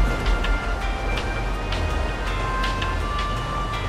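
A train rumbling past in GTA Online, a heavy continuous low roar with regular clicking of wheels over rail joints, loud and near.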